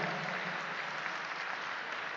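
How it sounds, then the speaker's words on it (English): Applause from a large audience at a spiritual satsang gathering, a dense, even roar of many hands clapping that holds steady throughout. "Let's have a big round of applause for this wonderful moment."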